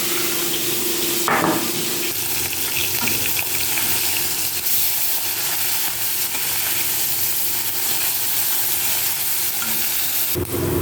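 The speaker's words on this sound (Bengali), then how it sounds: "বাকি মাছগুলোকে এবার ভেজে নেব" Fish pieces fry in hot oil in a pan with a loud, steady sizzle up close, joined now and then by scraping and stirring noises. No voices can be heard.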